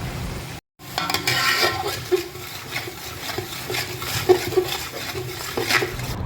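Onion paste and black pepper frying in a pan for homemade chicken korma, a steady sizzle with scattered scraping and stirring clatter of a utensil against the pot.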